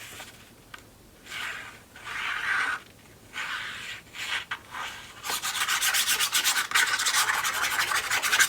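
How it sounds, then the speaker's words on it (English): A small yellow paper piece for a mini album is trimmed close by. Soft rubbing scrapes come in short bursts, then a denser, steady rasping run of cuts toward the end, with no voices. "I still need to trim a little off the yellow."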